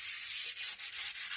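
Sandpaper, about 100 grit, is rubbed over a wooden English longbow in quick back-and-forth strokes, a close, steady scratchy hiss broken by short pauses between strokes.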